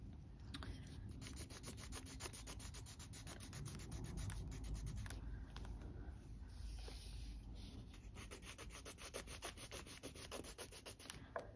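Colored pencil coloring on paper to fill a background, a steady close scratchy rubbing of rapid back-and-forth strokes that continues throughout, quiet and without talk.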